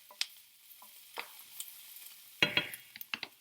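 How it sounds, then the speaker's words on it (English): Potatoes frying for a potato hash are stirred in a pan, giving scattered scrapes and clatters over a quiet sizzle, with a louder burst of stirring near the end. "let me give my potatoes a quick turn."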